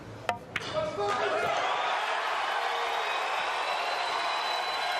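A crowd at a billiards match with a USA team roars into a steady, loud wave of cheering after a few sharp knocks at the start, and the noise holds evenly to the end.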